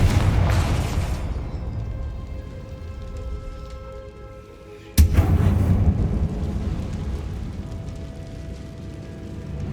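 A Confringo fire spell bursts in the Hogwarts Legacy video game, with a loud, deep, rumbling blast that erupts suddenly midway, following an earlier burst and a lingering roar.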